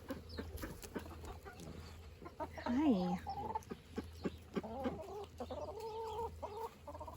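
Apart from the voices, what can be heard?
Welsummer chicken clucking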